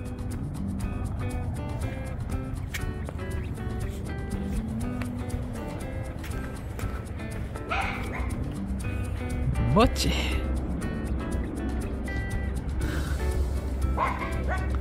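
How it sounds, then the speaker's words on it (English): A dog barks and yips repeatedly in the background while a person speaks, with a low steady hum running underneath. "She's barking at the neighbor"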